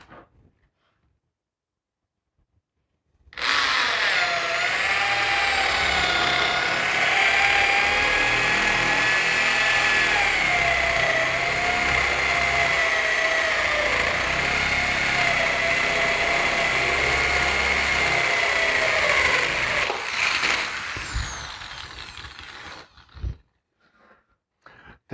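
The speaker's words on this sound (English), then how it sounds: "I'm going to take a 3/4 inch drill," A 3/4 inch drill bores a hole in a wooden board for a cubby: a loud, steady high-pitched motor whine runs for about seventeen seconds, close up, then winds down with a few clunks at the end.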